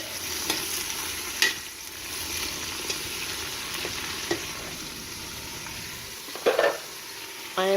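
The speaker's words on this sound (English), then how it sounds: "I'm stirring it all up because I want to get a little bit of butter on all of it." Leeks sizzle steadily in butter in a frying pan while a utensil stirs them, with several soft scraping clicks and taps against the pan over the constant frying hiss, close and moderately quiet.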